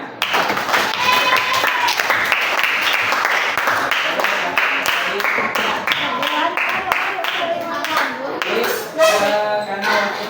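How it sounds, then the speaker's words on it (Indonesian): An audience at a school gathering applauds steadily, dense clapping filling the room with scattered louder taps, mixed with chatter and a few voices through the sound. "beri tepuk tangan untuk yang semuanya."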